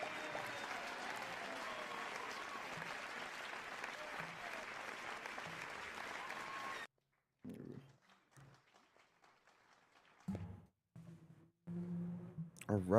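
Applause at a live show fills the first half as a dense, steady crowd clapping, then cuts off abruptly into near silence broken by scattered low thumps and brief noises.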